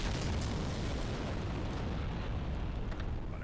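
A bomb explodes in Dark Souls' Sen's Fortress, a dense, booming blast whose rumble fills the whole stretch at steady loudness without pause, with no voices over it.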